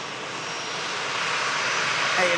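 Jet2 Boeing 757 airliner engines on an emergency landing approach at Manchester Airport runway 23L, a steady broad roar that swells slightly louder toward the end.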